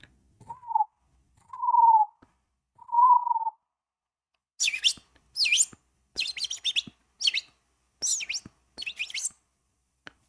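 Bird chirps and tweets, first a few short mid-pitched whistled calls, then a run of sharp high chirps in quick bursts, clear and fairly close against a quiet background.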